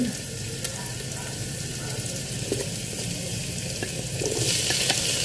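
Tomatoes cooking down with pork ribs in a pan, a steady close sizzle with occasional light stirring scrapes that grows a little louder near the end.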